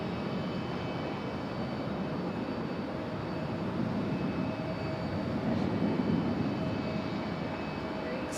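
A United Embraer E175 airliner landing at Raleigh-Durham International Airport gives a steady, broad jet engine roar from a moderate distance, holding constant with a slight swell in the later seconds.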